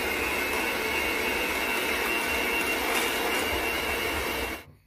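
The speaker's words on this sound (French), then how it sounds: "Puis je vais battre tous ces ingrédients jusqu'à ce que ce mélange blanchisse." An electric mixer beats eggs, salt and sugar for a caramel cake, whirring as a steady, loud, even drone for several seconds before cutting off abruptly at the end.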